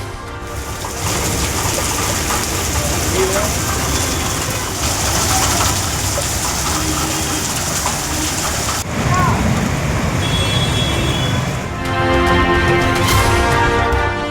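Heavy rain pours onto a road in the Chromepet area on GST Road, a dense, steady wash of downpour that fills the scene loudly and continuously, with some shifts in texture partway through.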